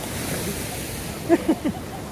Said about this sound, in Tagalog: Ang lakas pala ng alon dito.